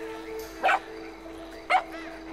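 A small dog in the GTA 5 video game gives two short, sharp barks about a second apart over a quiet hum of game ambience.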